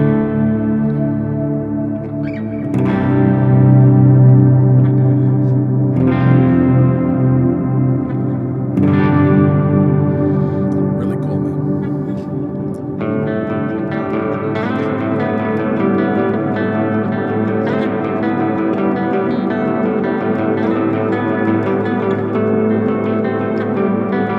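Heavily distorted electric guitar through a Line 6 POD GO modeler plays chunky metal chords and riffs with a processed, slightly echoing tone, loud and continuous with no talking.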